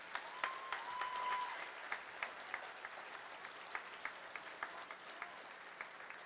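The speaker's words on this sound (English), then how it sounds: "Can you give them a big round of applause" Steady applause from a crowd at a high school graduation, a room full of hands clapping at a moderate distance, with a few sharper individual claps standing out.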